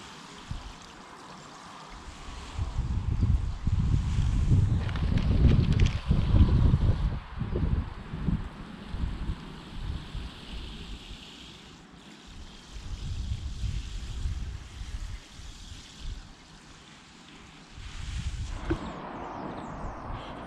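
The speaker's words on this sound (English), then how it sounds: "So let's get them watered." Potted bonsai trees outdoors are watered with a steady pour and splash over soil that swells and fades in several long stretches, with breezy wind noise underneath and no talking.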